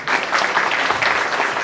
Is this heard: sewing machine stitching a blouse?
no